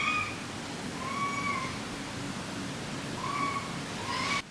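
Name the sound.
cat meowing loudly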